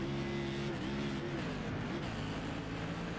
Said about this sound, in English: It did sound like the car just stalled out